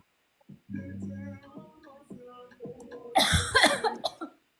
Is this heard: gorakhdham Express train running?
no